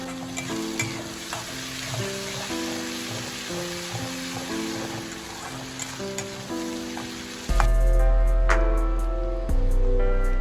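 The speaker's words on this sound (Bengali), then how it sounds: "এটা আমি দিয়ে মশলাটাকে পেঁয়াজের সাথে খুব সুন্দর করে মিশিয়ে নিচ্ছি" Ginger, green chili and crushed garlic stir-fried with onions in oil for a rohu fish dish, a loud continuous sizzle with stirring scrapes, and a louder, fuller burst of frying toward the end; no voices.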